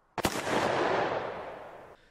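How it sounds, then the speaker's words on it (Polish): A single sharp gunshot fired on a railway platform in a Peaky Blinders scene, a loud crack followed by a long reverberant decay that fades over about two seconds. "Następnie pada strzał."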